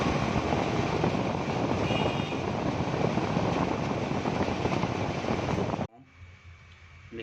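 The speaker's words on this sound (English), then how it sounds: "Cooler create the noise pollution." A household air cooler runs with a loud, even fan whoosh that stops suddenly near the end, leaving a much quieter background.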